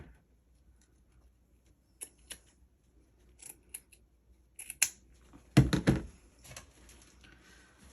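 Scissors snip through burlap ribbon for a fall wreath, with a scatter of crisp, close cuts and one heavier crunching cut midway, set in a quiet room with no voices.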